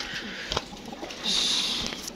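Pigeons coo softly in a loft with green-necked birds, faint and brief low calls amid rustling, a small thump and a short hissing burst in the background.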